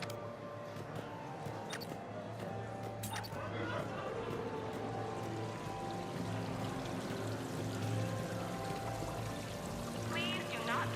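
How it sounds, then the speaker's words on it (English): A decorative fountain on the Citadel in Mass Effect, water pouring and splashing continuously at moderate distance amid a busy ambient backdrop with faint indistinct voices. "Please do not touch the waterfall. The fountain is decorative."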